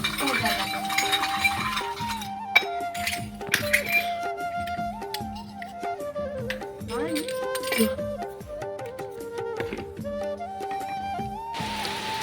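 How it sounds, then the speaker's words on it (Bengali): Metal puja utensils are scrubbed and washed by hand outdoors, giving frequent close clinks, clanks and rubbing scrapes over a long stretch, with talking alongside. "ঠাকুরের বাসনগুলো চটপট করে মেজে নিই"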